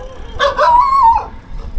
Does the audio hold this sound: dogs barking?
yes